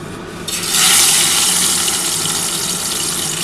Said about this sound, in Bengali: আমি চিংড়ি মাছগুলো ভেজে নিচ্ছি।